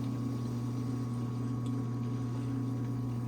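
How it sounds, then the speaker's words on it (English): A Honda gas-powered pump runs steadily while flushing antifreeze through a geothermal heat pump loop, a constant low mechanical hum with faint liquid churning and no pauses. "this is flushing all the way through the Honda pump back down here"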